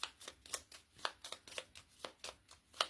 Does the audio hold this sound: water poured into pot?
no